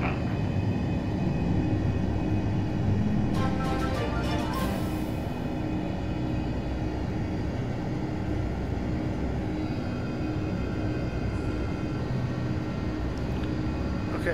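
Airliner climbing out after takeoff from Raleigh-Durham, a loud, steady engine roar heard from inside the aircraft, with a brief high whine early on and no clear talk.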